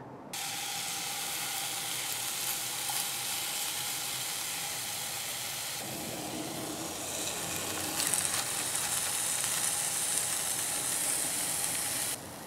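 Antelope meat burger patties sizzling in a preheated skillet, a loud continuous hissing sizzle that swells partway through as more patties go in, steady and close with no talking.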